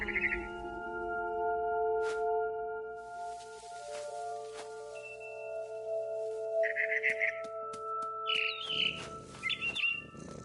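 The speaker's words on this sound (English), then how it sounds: "It was a barn swallow going back to her nest." A barn swallow chirps in the video game What Remains of Edith Finch, giving several quick, high tweets near the end over a steady layered ambient drone and hum.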